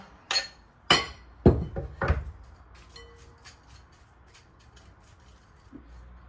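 Sliced mushrooms tipped into a bowl make several sharp, close knocks and clinks in the first couple of seconds, then lighter scattered taps that fade toward quiet.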